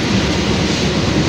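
The Jayabaya passenger train rolls into a station, a loud, close, continuous rumble of wheels on rails with a faint rhythmic clatter underneath.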